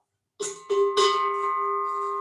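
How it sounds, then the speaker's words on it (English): A sacred bell rung before a yoga session with weights: three quick, bright strikes in close succession, then a clear sustained ring that hangs steadily without talk. "I'm going to ring my bell"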